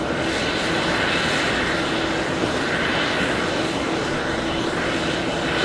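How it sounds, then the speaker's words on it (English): An Iberia airliner taking off from runway 13 right at JFK, its engines a continuous broadband roar heard from a distance, steady throughout with no speech over it. "Iberia is going to be lifting off, runway 13 right, getting a move on"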